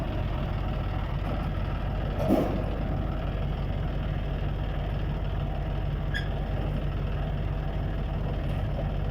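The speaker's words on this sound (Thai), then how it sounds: "ลากโดยรถไถจอนเดียครับนี่รถลาก" A John Deere tractor tows a trailer carrying a rice harvester, its engine holding a steady, low, rumbling drone throughout at moderate loudness, with no talk.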